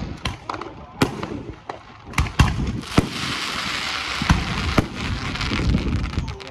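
Several 2.5 inch comet firework shells burst loudly at an outdoor show, with sharp booming reports at irregular intervals and crackling between them, while people talk and react in the background.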